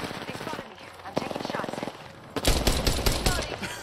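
Rapid automatic gunfire in Apex Legends, close and loud, coming in quick rhythmic bursts: a lighter stream first, then a heavier, louder volley near the end, with a player talking during it.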